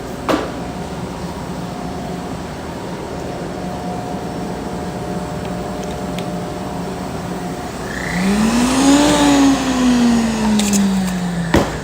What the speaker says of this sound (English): gonna take my blender